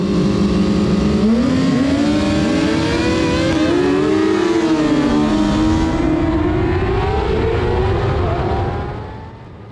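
Superstock motorcycles launch from the start at Barber Motorsports Park, a loud close engine roar rising in pitch as the bikes accelerate and shift, then fading slightly as they pull away.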